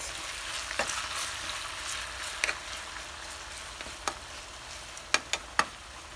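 Potatoes fry in hot oil with a steady, even crackling sizzle, close and fairly loud, broken by a few sharp utensil clicks and scrapes against the pan.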